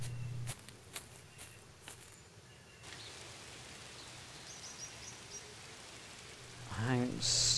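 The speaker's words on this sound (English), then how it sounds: "It's not raining too hard. I think most of it's just dripping off the trees." Light rain drips off the trees outdoors in a soft, steady patter, quiet and continuous, with a brief louder rustle near the end.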